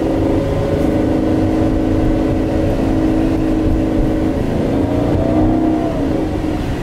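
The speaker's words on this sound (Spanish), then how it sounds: "Y el escape está rico. Suena muy, muy, muy bonito este auto." An Aston Martin sports car engine rumbles steadily with a throaty exhaust note, rising slightly in pitch near the end, loud and close.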